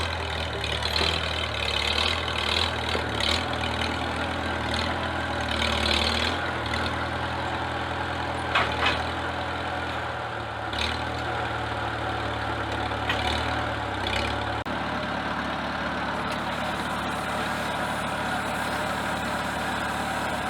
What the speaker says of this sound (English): the tractor's being cranky because it's so cold